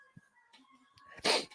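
One sharp, loud sneeze bursts out near the end, after a faint steady hum and a few soft vocal sounds, then trails off quickly.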